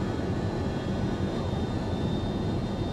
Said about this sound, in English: Those slats coming in there at the end.